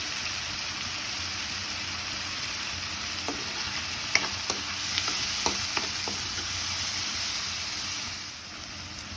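Fish intestines fry in hot oil with turmeric powder for a brinjal dish, a continuous close sizzle with several quick stirring clicks and scrapes in the middle.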